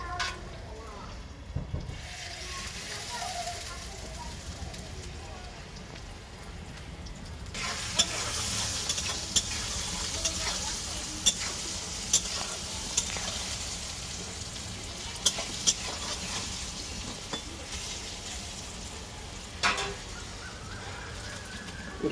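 Neem leaves and eggplant fry in a pan on a gas stove with turmeric and salt, a soft continuous sizzle under repeated scraping stirs and occasional utensil clicks, fairly quiet and close.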